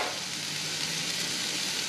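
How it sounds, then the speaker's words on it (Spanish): Chopped onion toasting in a pan gives a steady, dense sizzle at close range, an even crackling hiss with no voices over it. "Mientras se tosta la cebolla, va oliendo bien."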